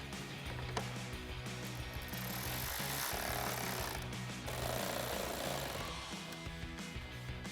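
A power driver with a 7mm socket runs self-tapping screws into a 2024-2026 Mustang GT upper grille, giving a sustained close, buzzing rattle of tool and plastic across the whole stretch, with no talk.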